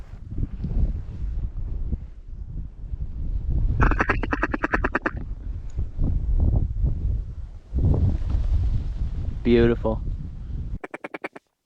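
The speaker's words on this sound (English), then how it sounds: "Oh, that's mallards, I think." Mallard ducks quack in bursts at a wetland duck-hunting spot, with rapid raspy calls clustered in a few spells, under gusty wind noise and people talking nearby.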